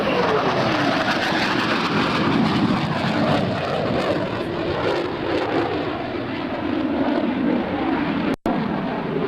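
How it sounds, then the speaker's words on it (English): An F/A-18C Hornet jet fighter on full afterburner roars through an airshow demonstration at NAS Oceana, a loud, continuous, broad rumbling roar that holds steady and ends abruptly. "Approaching center point, Rock will engage full afterburner and pulling 6 times the force of gravity, climb out to set up for the high-speed pass"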